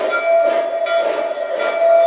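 A Lionel Baltimore & Ohio model electric train hums along its track with a steady whirring drone and a faint clatter, close and continuous.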